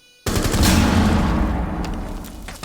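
An F2 assault rifle in Rainbow Six Siege opens up with a loud, sustained automatic burst that starts abruptly after a brief lull and rattles on at close range.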